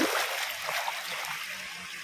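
River water rushes and splashes as people wade across, a close, bright hiss of flowing water with small splashy bursts, steady throughout and with no talking.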